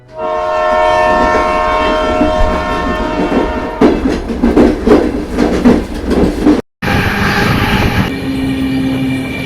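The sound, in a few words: passenger train moving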